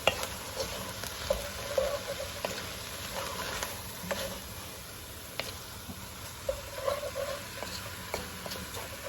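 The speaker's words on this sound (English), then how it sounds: "let's start to mix that together" Ground turkey, bell peppers and onion are stirred in a pot, making a soft, constant sizzle with repeated scraping and wet squelching strokes at close range and no talk.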